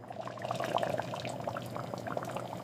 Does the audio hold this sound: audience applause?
no